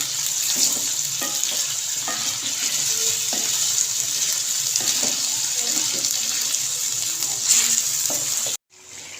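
Chicken frying in a karahi with a spoonful of ginger-garlic paste, a dense continuous sizzle with faint scattered clicks of stirring, then a sudden drop near the end.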